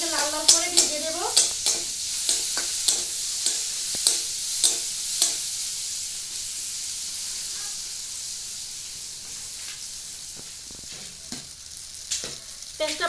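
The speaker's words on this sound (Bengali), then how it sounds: "পেঁয়াজটাকে লাল লাল করে ভেজে দেব।" Chopped onions fry in a pan with a steady hiss, while a spatula scrapes and taps in a regular rhythm early on, then sizzling continues alone with occasional clanks.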